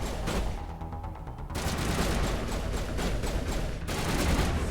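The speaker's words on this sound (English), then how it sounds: "they're just firing at the wall" Dense, rapid gunfire from Mass Effect Legendary Edition crackles close and loud in continuous volleys, with a brief lull before the shooting resumes.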